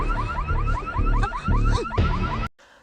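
A car alarm blares in a rapid, repeating pattern of rising electronic chirps, loud and close, for about two and a half seconds before cutting off abruptly, in a scene from an Indian film.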